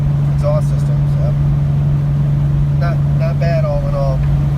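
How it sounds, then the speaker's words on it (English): Idling Nissan 350Z with a Nismo exhaust, 370Z headers and test pipes, a steady loud low drone running throughout while a person talks over it. "Nismo exhaust, 370Z headers, and then test pipes to go with that. So it's wide open exhaust system."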